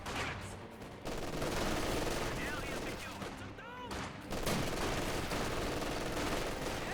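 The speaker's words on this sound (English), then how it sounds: "MG42 hitting that rifle squad." An MG42 machine gun fires at an infantry rifle squad in the World War II strategy game Company of Heroes 2, sounding as dense, continuous battle gunfire with brief lulls and other distant shots and explosions mixed in.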